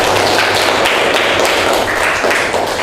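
Schoolchildren in a classroom clap together for a correct answer, a continuous, lively patter of many hands that stays loud from start to finish.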